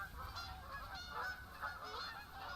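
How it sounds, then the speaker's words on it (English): Faint geese honking in theHunter: Call of the Wild, a steady run of overlapping calls at a distance against a soft low rumble, with no talking. "How am I missing all these geese?"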